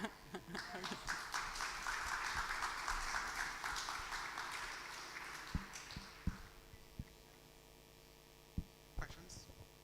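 Light applause from an audience in a panel session hall, dense clapping for about six seconds and then thinning to a few scattered claps, with faint murmuring underneath.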